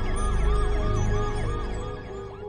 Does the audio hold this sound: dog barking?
no